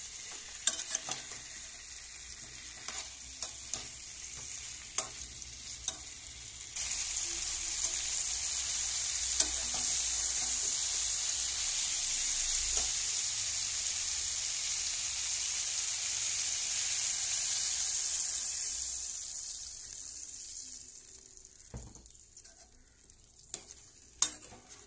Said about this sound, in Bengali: আমি কাঁচা লঙ্কা দিলাম, হলুদ, লবণ পরিমাণ মতো দিয়ে কিছুটা সময় নেড়ে চেড়ে নেব